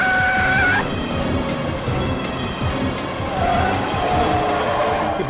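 A bus swerves from side to side, with tires squealing and skidding amid a rushing engine rumble. It stays loud and continuous, and faint shouting voices come in underneath.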